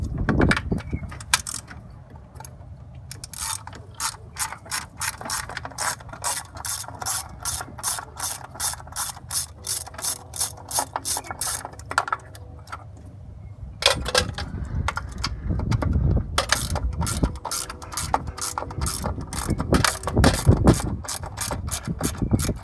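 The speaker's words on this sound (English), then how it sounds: "Gonna have to use a regular ratchet." Hand ratchet working under a Chevelle, with rapid bursts of sharp clicking pawl strokes in repeated runs, separated by brief pauses and a few metallic clanks.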